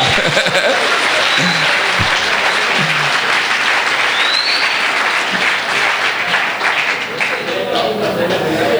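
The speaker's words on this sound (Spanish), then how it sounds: "Denle un aplauso al Señor." A congress audience at a church gathering bursts into loud, sustained applause, dense clapping close by with a few chuckles and shouts mixed in, holding steady for the whole stretch.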